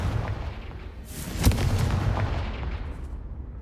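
The Confringo blast spell fired in Hogwarts Legacy lands as a single heavy booming explosion midway, with a rumbling tail fading over a few seconds and no talk.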